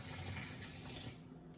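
Tap water runs steadily into a sink to soak a paintbrush, a continuous close splashing flow that eases off slightly near the end, with no talking.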